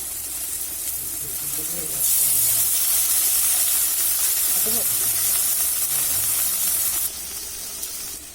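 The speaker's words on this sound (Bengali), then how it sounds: "আমার ঝালটা ফুটে গেছে, আমি এবার মাছটা দিয়ে দিলাম।" A Bengali bhola fish jhal sauce of ginger, chilli and turmeric pastes with yogurt bubbles in a pan, giving a loud, steady hiss and sizzle for several seconds before it drops off.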